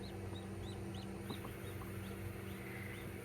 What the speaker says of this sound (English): we just had a chicken pop out too